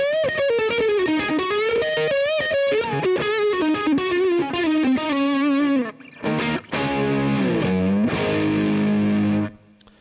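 Electric guitar on the neck pickup played through a Boss DS-1 Tri Roxx Plus modded distortion pedal, a loud continuous run of distorted single notes and bends, then strummed chords with brief gaps near the end, no talking.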